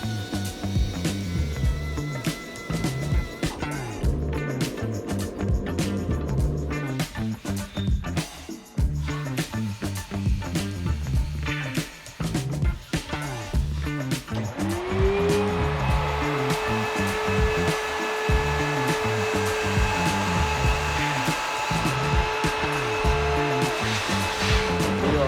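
A 427 cubic inch LS1 running on alcohol with ported Liberty 11-degree heads and a Trick Flow intake is held on a dyno. Loud and close, it pulses with a rough idle, then revs in a sustained rising scream.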